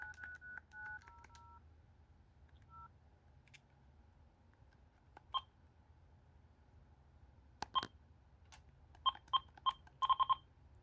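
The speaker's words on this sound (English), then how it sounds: "let's go ahead and make a phone call to the Northwest Indiana time and temperature line" An AT&T TL76108 telephone plays dialing tones: a few early tones, then scattered single beeps and a quick run of clean, close, faint touch-tone beeps near the end, with no talking.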